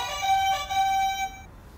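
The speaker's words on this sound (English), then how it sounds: "my buzzer sounds like this" A quiz buzzer for a cricket-themed head-to-head quiz sounds as a short electronic chime of two bright sustained tones lasting about a second and a half, clear and alone.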